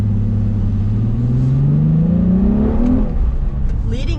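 A car engine roars as it accelerates, its pitch rising steadily over several seconds before easing off, loud and close, with a faint voice near the end.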